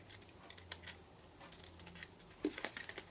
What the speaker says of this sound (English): we can start snipping now. So snip the lid.